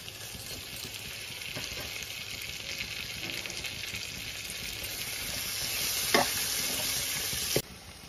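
Green chillies and potato pieces frying in a pan, a continuous bright sizzle that swells slightly toward the end, with a couple of sharp utensil knocks against the pan.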